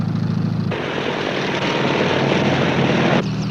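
A loud, steady roar of a helicopter engine and rotor fills the whole stretch, close and constant with a broad whooshing drone.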